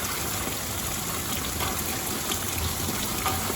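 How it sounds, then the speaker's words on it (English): Steady dense pattering and hissing of hail and rain falling all around during a severe thunderstorm, loud and continuous with no voices. "And there's a look at the hailstorm."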